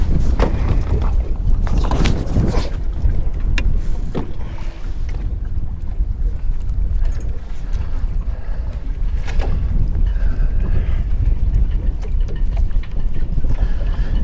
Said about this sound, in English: Really is a stiff nor'easter.